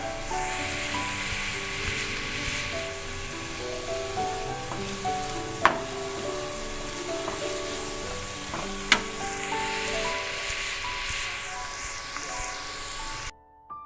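Fenugreek leaves frying in a pan give a continuous close sizzle with occasional stirring scrapes and a couple of sharp clinks, steady throughout before cutting off at the end.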